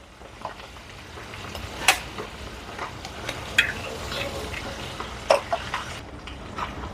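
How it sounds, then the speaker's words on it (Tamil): Eggs frying in hot oil in a Jaffna home kitchen: a steady, soft sizzle with a few sharp pops and occasional utensil clicks, close by and without talk. "முட்டை பொரிக்க போகிறேன்."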